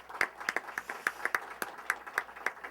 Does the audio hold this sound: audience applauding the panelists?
yes